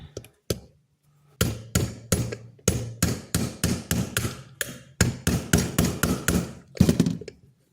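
Metal hammer blows drive a sharpened brass center pin into a Schrade Walden 804 Whittler pocket knife, a few isolated taps followed by a long steady series of sharp, close, evenly spaced strikes.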